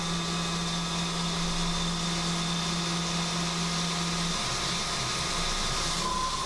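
Milling machine taking a shallow cut across a plate for a brushless motor mount, the spindle straining under load in a continuous whining hum whose steady tone drops in pitch partway through.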